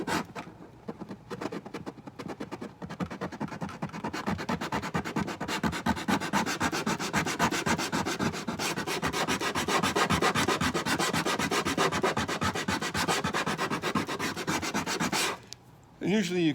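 Continuous rhythmic sanding strokes rasp back and forth across sanding sealer on a vintage Gibson J30 acoustic guitar, close and fairly loud, ending abruptly near the finish.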